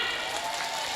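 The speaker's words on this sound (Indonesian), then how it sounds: "Tepuk tangan." Audience applauds briefly, a steady, even patter of clapping hands with no pauses.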